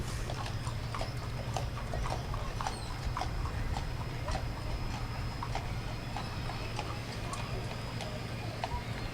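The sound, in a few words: horse hooves clip-clopping, pulling a buggy in a parade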